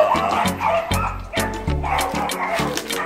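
A dog outdoors barks and yips repeatedly in a steady rhythm of short, loud, close barks that fill the moment without pause.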